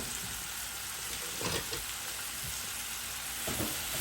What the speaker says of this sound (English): And I'm just going to stir these until they are lightly browned.